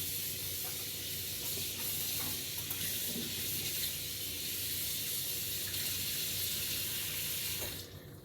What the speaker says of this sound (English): I know there are people who think you don't have to wash your meat.